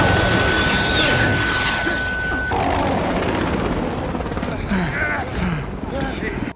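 A helicopter in an action film scene drones loudly beneath a constant whine, then muffled blasts and crashes break through as the noise turns chaotic and voices shout.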